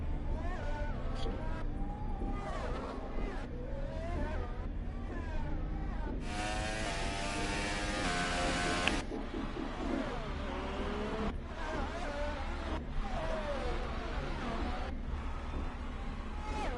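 Formula 1 McLaren racing car engine from the F1 2018 racing game, droning steadily throughout with a louder rasping surge midway, under near-continuous commentary talk.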